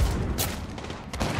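Gunfire in the Apex Legends game, two short bursts of shots with a dense noisy rumble between them, loud and close.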